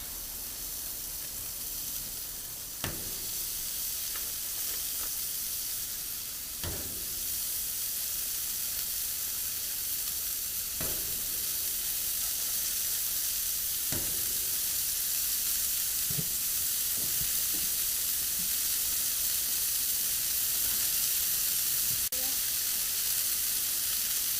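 Smash burgers with onions sizzle steadily on a hot griddle, a constant bright crackle with occasional scraping clunks of a spatula.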